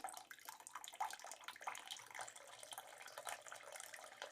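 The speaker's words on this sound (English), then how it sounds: "Right now I'm just draining the water out of the head." Steady, faint splashing and trickling of water draining from the filter head of a Penn Plax Cascade 1000 aquarium filter, a continuous gurgling flow with no voices.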